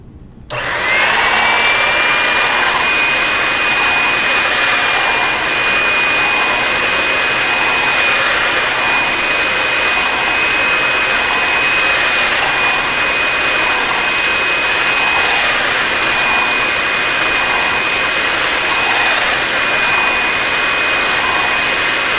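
A motorized pasta machine used to roll polymer clay for beads runs continuously, giving a loud, steady mechanical whine with a thin high tone throughout.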